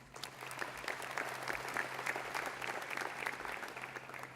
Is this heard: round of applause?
yes